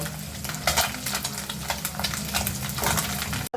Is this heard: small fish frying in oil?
yes